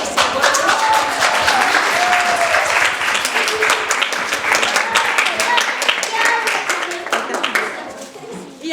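An audience at a soloists' singing contest in Tõstamaa claps loudly and densely for a singer, a thick, sustained round of applause with a voice speaking over it.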